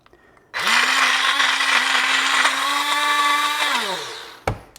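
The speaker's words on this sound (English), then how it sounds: "let's go ahead and blend this up." A countertop blender purees high protein enchilada sauce, starting abruptly into a loud, steady whirring roar, then winding down and stopping, followed by a brief clatter; no voices over it.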